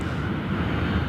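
A Boeing 747 departing Sydney Airport in the evening produces a loud, continuous broadband jet engine roar with no talk over it throughout the brief stretch.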